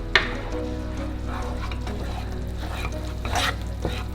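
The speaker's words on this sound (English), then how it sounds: "Now I'm going to mix. Mix until well combined." Spoon stirring flour into melted butter in a pot while cooking Greek pastitsio, soft scraping and light bubbling sizzle, close and steady after an initial clink.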